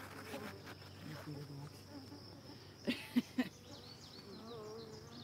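Honeybees around three active hives outdoors, a steady faint buzzing under the ambient background, with a few sharp louder knocks or bumps clustered near the middle.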